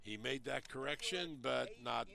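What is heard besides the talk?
No everyday noises stand out.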